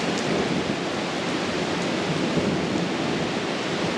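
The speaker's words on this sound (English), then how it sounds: "that's definitely thunder." Thunder rumbles through a thunderstorm outdoors at a house building site with aerated concrete internal walls, a steady loud broadband roar that may mix with rain, continuous for the whole stretch with no speech.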